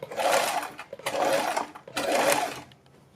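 A sewing machine runs in three steady bursts of rapid stitching, each about a second long with short pauses between, as a high neck collar is sewn along buckram. It is close and fairly loud, and no one speaks.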